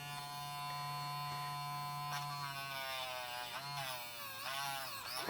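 A battery-powered mini drill, revived with an 18650 cell and driven directly by its motor, whirs with a steady close electric buzz whose pitch wavers and dips near the end.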